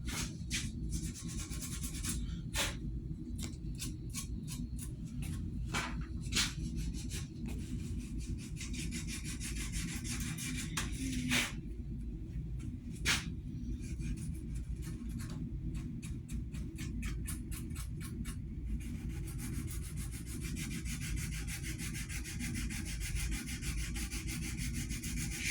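Sandpaper rubs back and forth over the edges of a one-pound Norland Hudson Bay axe head, a steady scratchy rasping with brief pauses and sharper strokes, close and alone for the whole stretch.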